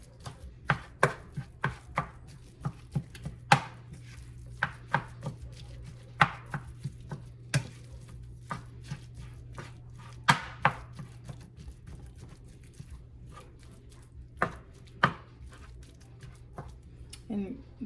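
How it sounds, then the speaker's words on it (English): A knife chops food on a cutting board in a series of sharp, uneven knocks, about one or two per second, close and distinct. Faint background talk is heard between the strikes. "chop it up."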